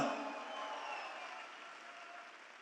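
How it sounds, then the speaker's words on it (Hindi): Audience applause at a business success celebration, a dense hiss of clapping that starts strong and slowly fades over a few seconds. "एक बार और जोरदार तालियां बजाएं।"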